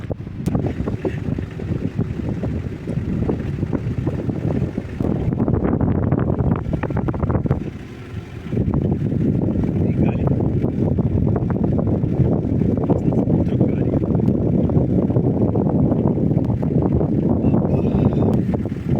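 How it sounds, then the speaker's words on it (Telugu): Steady wind buffets the microphone on a sandy beach, blowing into a parked vehicle as a continuous, loud rushing roar with one short lull partway through. "చల్లని గాలి వస్తుంది బండిలోకి"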